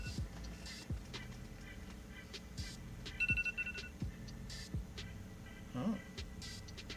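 A short electronic alarm tone rings faintly for a moment partway through. Around it is a quiet room with low hum and scattered clicks and knocks.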